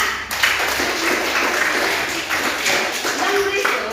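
Pupils in a primary school classroom clap together during a lesson, producing a continuous patter of many hands at moderate loudness. Talk is heard faintly alongside the clapping.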